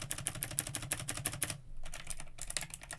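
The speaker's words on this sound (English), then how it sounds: "you did get some nice keyboard ASMR because I got a new keyboard and listen to this" Rapid clicky keystrokes on a new computer keyboard, close and crisp, in a steady burst for about a second and a half, then a pause and a few sparser taps.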